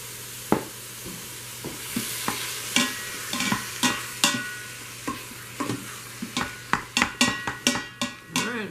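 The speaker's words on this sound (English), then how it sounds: "you want to fry the onions as well in with the hamburger and the garlic" Ground hamburger, onions and garlic frying together in a pan, a steady sizzle under repeated scraping and stirring strokes of a utensil against the pan, close up with no talking.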